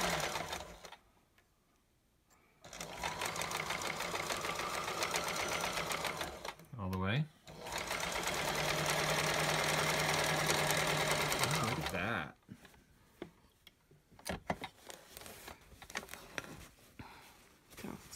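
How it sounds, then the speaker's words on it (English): A White 999 sewing machine runs in two long bursts of fast, even mechanical whirring and ticking, close and clear, with quiet gaps and some handling noise between them and a voice briefly heard. "Oh, she's got lots of power."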